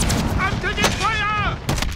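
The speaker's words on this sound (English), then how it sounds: "I'm taking fire!" Gunfire in the video game Warzone, a few sharp shots cracking out over a steady game background with a whooshing sweep in between, close and fairly loud.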